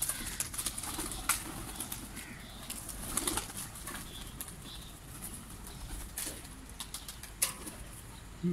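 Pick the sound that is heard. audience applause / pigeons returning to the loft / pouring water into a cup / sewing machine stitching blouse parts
pigeons returning to the loft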